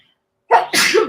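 One sharp sneeze: a quick intake of breath, then a loud burst, close and alone.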